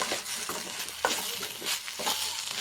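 Spices such as coriander and chilli powder being stirred into frying egg bhurji in a pan, with steady sizzling and a few scraping strokes of the spoon throughout, close and moderately loud, no talking.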